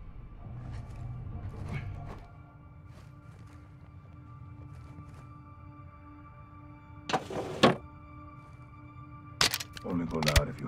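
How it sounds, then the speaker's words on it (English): Doors open in Call of Duty: Modern Warfare II, heard as two short, loud mechanical bursts near the end of the clip, after a stretch of steady low hum and background voices. "Doors open."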